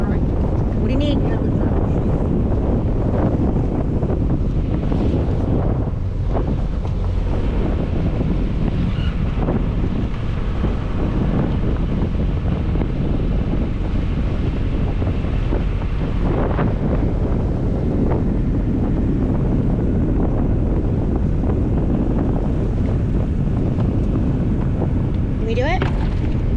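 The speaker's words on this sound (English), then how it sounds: "Wind's picking up. We're heeling over." Heavy, constant wind roaring across the microphone on a heeling sailboat sailing from Corpus Christi to Rockport, with water rushing beneath and people talking faintly through the loud buffeting.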